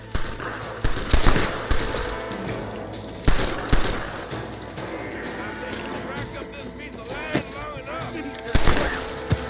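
Gunfire in Red Dead Redemption: repeated loud shots and bursts crack out irregularly across a busy game soundscape, with a voice speaking over the shooting.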